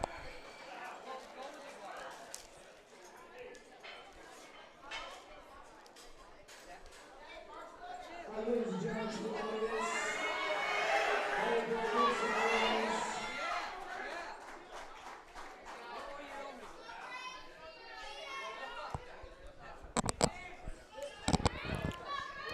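Spectators at a high school powerlifting nationals meet cheer and shout for a girl's squat attempt, the voices swelling midway then fading, with scattered claps and thumps and an announcer talking throughout.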